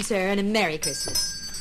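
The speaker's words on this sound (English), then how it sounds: "stands beside her kettle, ringing her bell in expectation of some Christmas charity." A Salvation Army handbell rings steadily beside a Christmas charity kettle with bright metallic tones, running under a woman's cheerful speech close by.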